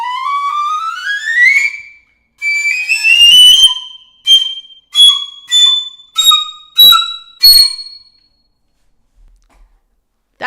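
A bejeweled flute plays a rising whistly run up to high C, a smooth glide followed by a string of short, bright separate notes that end in silence.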